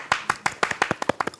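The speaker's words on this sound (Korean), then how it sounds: "시타의 첫 여성 게스트 박수 한번 칠까요?" Quick rhythmic hand clapping welcomes the first female guest on a Korean talk show. The claps are close and even, about a dozen over a second and a half.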